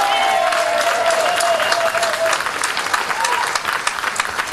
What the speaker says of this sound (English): I want you to really give a special round of applause and welcome to the Ambassador of the Republic of Cuba